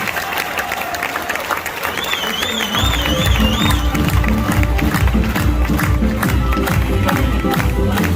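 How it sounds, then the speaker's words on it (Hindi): A live program audience in a dharamshala hall welcomes guests with enthusiastic applause: loud, dense crowd clapping with some cheering and rhythmic beats swelling midway. A brief warbling tone rises over it, and voices mingle in the background. "तो बहुत जोरदार तालियों के साथ स्वागत करते हैं।"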